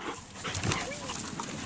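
A dog outdoors near water, brief soft whimpering and panting close by while people talk over it.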